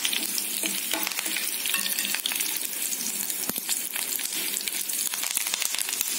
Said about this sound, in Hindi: करी लीफ और सूखे मिर्चियाँ भी ऐड कर रहे हैं मैं तेल में।